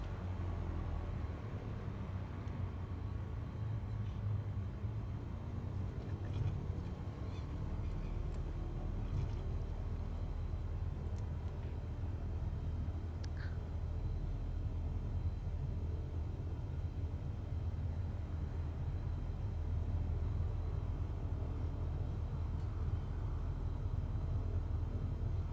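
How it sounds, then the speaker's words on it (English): Light aircraft taxiing in Microsoft Flight Simulator 2020 on a coastal flight from Wilmington, NC: a steady low engine drone and broadband rumble that stays even and continuous throughout, with no talk. "I'm going to start taxiing"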